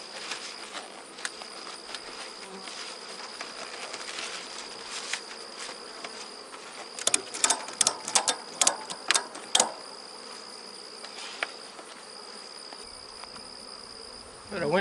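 Honeybees around a small nucleus hive give off a continuous buzzing hum, with several individual bees passing close by in brief, louder bursts through the middle.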